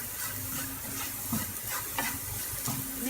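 Garam masala and turmeric stirred into a frying onion mixture for chicken cutlets, a soft continuous sizzle with rhythmic spoon scrapes against the pan, close but fairly quiet, no talk.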